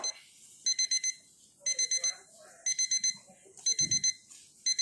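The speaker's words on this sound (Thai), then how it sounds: "นาฬิกาดังแล้ว" An alarm clock rings in repeated quick groups of four shrill electronic beeps, close and loud, with a brief low thump and faint background voices between bursts.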